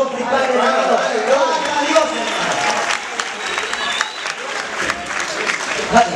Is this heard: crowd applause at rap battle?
yes